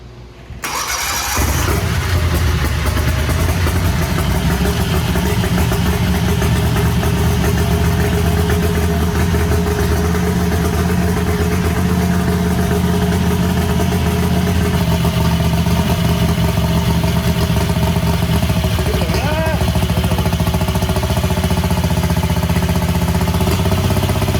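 A turbocharged Predator 670 engine on a dyno fires up after a brief moment, then runs loud and steady as a sustained roar for over twenty seconds.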